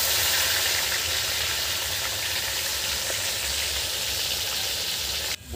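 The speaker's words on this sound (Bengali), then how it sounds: "পেটি, দাগা, গাঁটা সব একসঙ্গে ভাজা হচ্ছে বন্ধুরা একদম।" Pieces of a giant catla fish, belly, middle and head cuts, frying together in hot oil, giving off a steady close sizzle with a low background rumble that drops out near the end.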